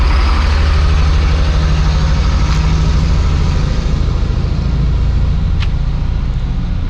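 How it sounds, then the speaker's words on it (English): Loud diesel trucks idle and rumble close by in the morning, a heavy continuous low engine drone with a couple of faint clicks and no talk. "It's a good mouthful of diesel in the morning"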